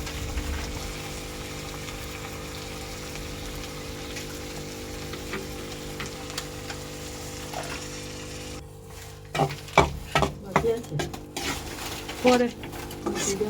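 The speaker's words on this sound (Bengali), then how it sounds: "দিয়ে এবার ভালো করে কষে নেব।" Spiced kabuli chana masala is sautéed in a pan, first a low steady sizzle, then a burst of clanking and scraping as a spoon works the mixture against the pan, close by, with a brief spoken word.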